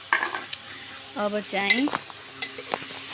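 Onion going into a hot pan in a home kitchen and being stirred, with scraping utensil clinks and a soft sizzle over a few seconds, while people talk nearby.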